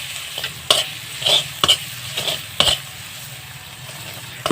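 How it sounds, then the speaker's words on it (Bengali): A spatula stirs ginger, garlic and cumin paste frying in a pan, making repeated scraping strokes and clinks over a constant sizzle, close and fairly loud, with no voices. "এরপরে আমি এটা ভালো করে নেড়ে নেব"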